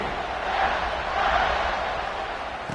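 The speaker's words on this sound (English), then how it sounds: "this crowd is buzzing after that last score" Stadium crowd noise in the college football video game NCAA 26, a steady, broad roar of a large crowd buzzing after a score, continuous and fairly loud without clear individual voices.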